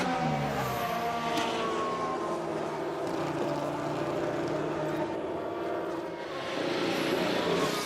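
Max Verstappen's Formula 1 car drives into the pit lane in F1 Manager 22, its engine a steady, loud drone with shifting tones that runs throughout.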